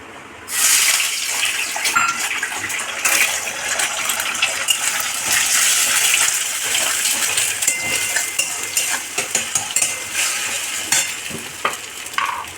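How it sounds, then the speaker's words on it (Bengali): Two cracked eggs hit hot oil for an egg and potato bhujia, and a loud steady sizzle follows. Scraping and stirring clatter runs throughout, with small metallic ticks scattered over the frying hiss, and no voices. "দুখানা ডিম নিয়েছিলাম, এই ডিমগুলো এই তেলের মধ্যে দিয়ে দেবো"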